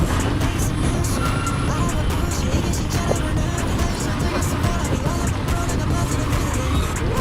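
Dense night road traffic with trucks at a city signal, a continuous loud engine roar and tyre rumble close by, with faint brake hisses and indistinct voices mixed into the din.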